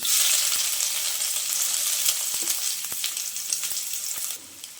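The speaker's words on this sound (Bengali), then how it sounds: "তেলটা গরম হয়ে গেছে, এখন আমি দিয়ে দিচ্ছি পেঁয়াজ কুচি" Chopped onion hits hot mustard oil in a wok for a potato filling, giving a close, steady crackling sizzle with a few sharp pops; no one speaks.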